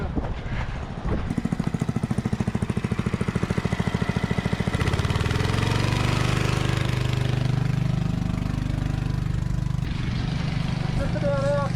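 Fire pump engine running steadily at a bushfire, a loud chugging drone that rises in pitch partway through as the pump is turned up, with people talking nearby.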